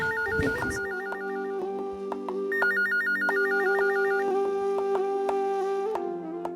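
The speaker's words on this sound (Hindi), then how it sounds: "इस वक्त किसका फोन आ गया?" A telephone rings repeatedly in a steady electronic warble, fairly close and loud, with no talking.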